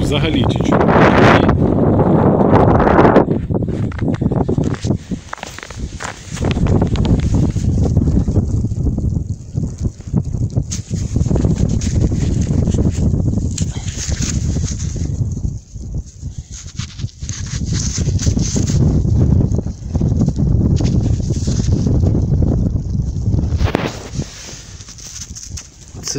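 Strong wind buffets the microphone in a loud, roaring rumble that gusts and surges almost without pause.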